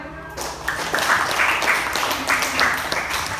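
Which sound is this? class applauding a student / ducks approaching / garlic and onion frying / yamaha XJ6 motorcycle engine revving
class applauding a student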